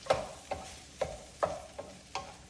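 Sugar snap peas and broccoli being stirred in an oiled frying pan, six evenly spaced scraping strokes about half a second apart over a faint sizzle, close and fairly quiet, with no talking.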